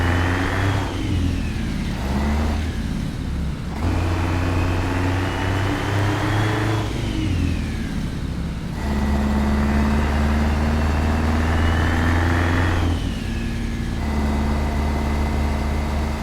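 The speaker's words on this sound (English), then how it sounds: "It's a loud engine." A loud Kenworth 521 truck engine hauling a Fruehauf trailer in a video game drones and revs in repeated surges, pitch rising and falling over a steady low rumble, with no talking.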